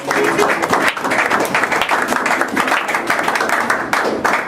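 A church congregation applauds a pastor, a dense, steady wash of clapping hands filling the room throughout with a few voices mixed in.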